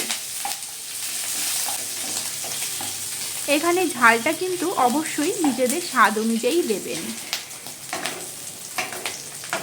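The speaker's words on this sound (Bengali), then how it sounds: "এবারে সব কিছুকে এক দু মিনিটের জন্য নেড়ে চেড়ে নিয়ে ভেজে নেব" Cumin, ginger paste and slit green chilies stir-frying in hot oil for a bottle gourd dish, a continuous bright sizzle with stirring scrapes throughout, partly under a woman's speech in the middle.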